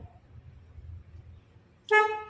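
After a quiet stretch of low engine hum, the horn of a Mitsubishi Lancer CK with a newly replaced steering wheel blares once, short and loud, close by.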